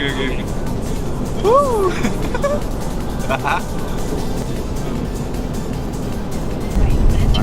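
Nissan Skyline car engine droning steadily from inside the vehicle on a Japanese mountain road near Mount Akina, with a brief rise in engine noise toward the end and people talking over it.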